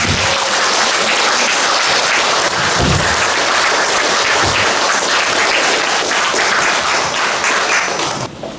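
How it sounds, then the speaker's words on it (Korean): An audience at a book concert breaks into loud, dense applause that holds steady for about eight seconds before starting to taper at the end. "여러분 스스로에게 박수 한번 세게 보내시기 바랍니다"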